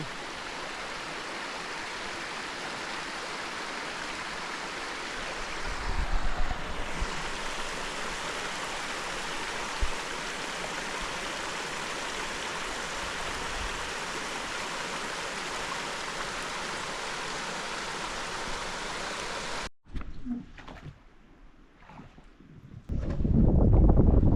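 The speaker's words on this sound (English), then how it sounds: "We got a cool waterfall back here." A waterfall pours beside a flowing Ozark river, a continuous loud rushing wash with a few thumps and movement noises, then it abruptly drops away near the end to quieter handling noise and a low rumble.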